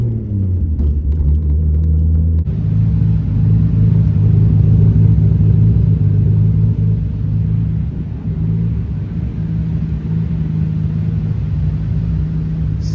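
A car engine, just repaired with cam and crank sensor fixes, revs briefly and then idles steadily and slightly high, a loud close rumble holding constant for most of the stretch.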